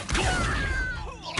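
Accio summoning spell effect from the Hogwarts Legacy game, a short loud magical whoosh with a rising shimmering tone and a thud, lasting just over a second.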